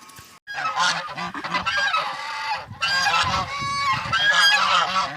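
A flock of geese honks loudly and continuously, many overlapping nasal calls close by with brief gaps.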